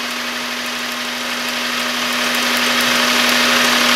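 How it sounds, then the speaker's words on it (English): A barn-find 2000 Honda Insight idling, a steady close engine drone with a strong constant hum that swells slightly louder over a few seconds, no voices. "I'm gonna fire up the car."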